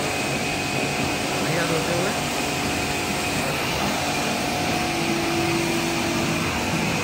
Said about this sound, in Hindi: इसी के साथ हमारी गाड़ी धुलती हुई